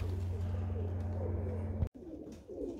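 Racing pigeons coo softly and steadily in a loft, a low rhythmic rolling call heard close but faint, broken by a sharp click near the end before quieter cooing resumes.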